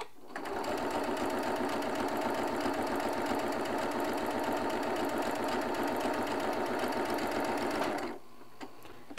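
A sewing machine runs a quarter-inch seam while chain piecing quilt blocks, with a rapid steady mechanical stitching hum for about eight seconds before stopping abruptly, close and alone.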